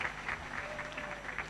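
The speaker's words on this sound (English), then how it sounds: "A round of applause to our choir." Graduation ceremony audience at The East African University applauds the choir, fairly thin clapping with a few distinct pulses, heard at some distance.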